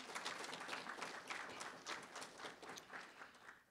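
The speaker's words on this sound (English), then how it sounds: "So let's give them a round of applause as well." An audience at a keynote event applauds, giving a steady round of many hands clapping that fills the room at moderate distance, tapering slightly toward the end.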